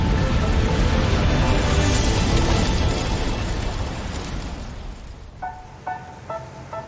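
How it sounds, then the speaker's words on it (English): Storm surf pounding the seafront at Oban, Scotland, a loud continuous roar of wind and crashing waves that slowly eases, followed by a few short tonal bleeps near the end. "The storm rages on, testing Oban's defences to their limit."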